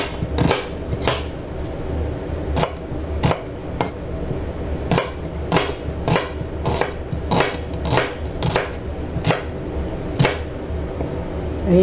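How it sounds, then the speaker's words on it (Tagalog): A knife chops onion on a cutting board for pancit bihon, with a steady series of crisp, close, loud chops over about twelve seconds and no talking. "Ayan guys, maghihiwa tayo ng sibuyas."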